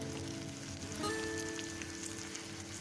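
Curry leaves and masala sizzle steadily as they are sautéed in a pan for egg masala. The frying hiss is close and continuous, with brief louder crackles and a faint tonal ring mixed in. No voices are heard.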